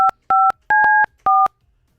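A telephone number dialed on a touch-tone keypad: four loud, clean dual-tone beeps in an uneven rhythm, each separated by silence, with no talking.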